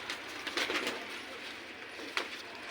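Soft cooing from high flyer pigeons in a loft in Jammu's old city, faint low coos with a few brief brighter calls over quiet background noise.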